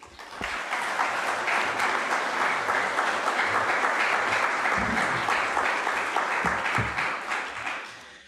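A worship service congregation claps steadily and warmly to welcome a speaker, dense sustained applause that fades out at the end.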